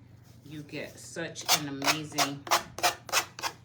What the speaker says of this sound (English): I know this tool is rather noisy, but it is the best thing for sanding